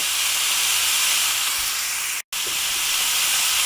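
Butter sizzles steadily in a pan with a dried mushroom sauté, a loud, even hiss throughout with a single brief dropout partway through.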